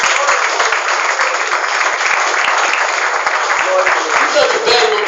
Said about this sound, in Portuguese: Dê forte as palmas para Jesus.